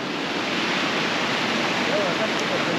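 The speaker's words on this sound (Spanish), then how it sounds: "Llegamos a la primer cascada del recorrido." The first waterfall along a rocky canyon trail gives a steady, close, broadband roar of rushing water that fills the whole moment without letting up.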